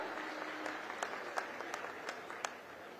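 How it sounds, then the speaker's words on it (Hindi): A crowd at a farmers' conference applauds steadily to welcome guests on stage, a dense wash of clapping with a few sharper individual claps standing out, fairly distant and even throughout. "एक बार सब मंचस्थ अतिथियों के लिए जोरदार ताली बजाकर स्वागत कर दो"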